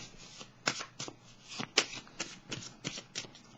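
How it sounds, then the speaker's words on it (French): Tarot cards being handled and laid one on another, a quick series of soft papery slaps and flicks, close and fairly quiet, without speech. "Je vais déposer une carte sur celle-ci."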